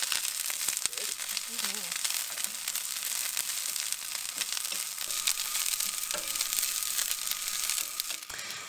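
Cabbage and ground beef sizzle steadily in a pan over a camp stove outdoors, with a constant frying hiss and occasional stirring scrapes, while a voice speaks faintly underneath.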